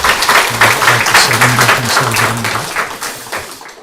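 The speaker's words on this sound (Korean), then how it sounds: "큰 박수로 환영하도록 하겠습니다." A church congregation applauds to welcome a newcomer at a service: a few seconds of steady, fairly loud clapping from many hands, with a low tonal hum underneath, tapering off at the end.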